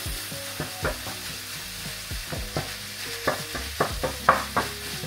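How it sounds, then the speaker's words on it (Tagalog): Ground pork and beef stirred in a hot pan for Filipino-style spaghetti sauce, loud steady sizzling with repeated scraping stir strokes and clunks of a utensil against the pan, close up with no talking. "Add na natin ang ating ground pork and beef"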